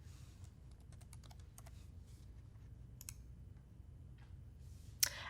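Username typed on a computer keyboard: a quick burst of light key clicks early on, then a few scattered taps and a sharper click near the end, over a low steady hum.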